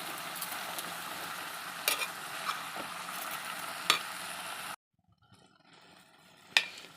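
A ridge gourd and prawn curry stirred in a pan, with a steady sizzle under scattered scrapes and clinks of the spoon, breaking off abruptly into near quiet before one last clink.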